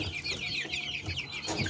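A flock of month-old chicks of breeds such as Adler, Jersey Giant and Leghorn, raised at home, peep and chirp continuously in a busy, overlapping chorus, moderately close and fairly quiet.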